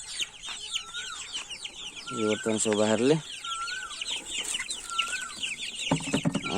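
Native desi village chickens cluck in short repeated bursts at close range, with a rooster-like crow partway through. People talk over the birds throughout.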